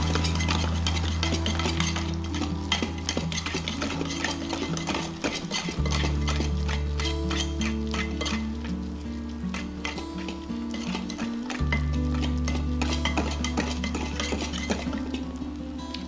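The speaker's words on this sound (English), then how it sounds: "let me use my dough whisk, and I'm going to mix everything up all nice and neat" Cornbread muffin batter being mixed with a dough whisk in a bowl: steady wet stirring and scraping with clinking of the whisk against the bowl, continuous and close over a constant low background hum.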